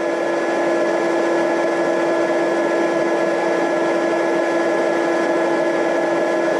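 A heat tool runs for embossing a card, a loud, constant electric whir with a steady tonal hum and blowing hiss, unbroken throughout and close up.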